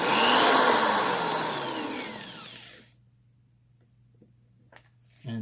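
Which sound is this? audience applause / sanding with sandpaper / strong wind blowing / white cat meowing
sanding with sandpaper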